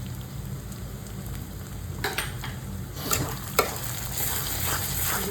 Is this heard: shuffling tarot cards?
no